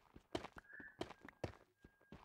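A Minecraft horse's hooves clopping in a quick uneven series of sharp knocks, with a brief whinny-like tone, all faint and close with no talk.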